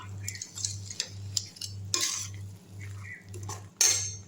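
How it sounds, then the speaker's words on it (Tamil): Chicken with coriander is sautéed in a pan for a Chettinad-style chicken thokku with horse gram greens. A spatula clinks and scrapes sharply against metal over a regular, pulsing low hum. "நல்லா வதக்கி விட்டுடலாம்"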